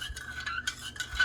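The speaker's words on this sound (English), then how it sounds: "So I'm going to stir that up." Stirring salt and capful of denim blue RIT dye into hot water, a soft swishing stir with faint spoon scrapes against the container, close and continuous with no talk.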